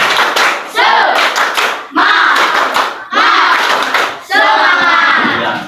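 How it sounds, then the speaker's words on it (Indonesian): Schoolchildren do the spirit clap (tepuk semangat), loud close bursts of group clapping broken into four phrases, with young voices shouting along between the claps. "Tepuk semangat"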